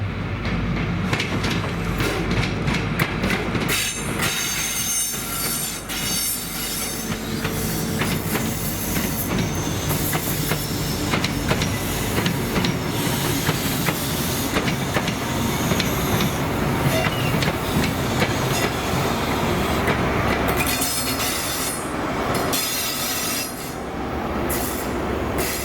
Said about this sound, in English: the 1343 ScotRail service to Aberdeen from Glasgow Queen Street with 43150 and